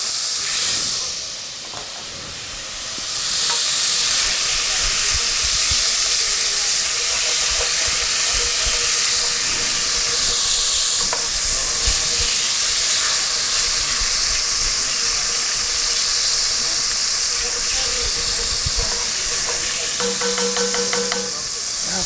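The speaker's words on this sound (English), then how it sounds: "Got to be careful that steam don't get me." Loud, continuous steam hiss as water hits a hot pan to deglaze it while cooking sausage, a brief dip near the start and then a steady sizzling roar that holds for the rest.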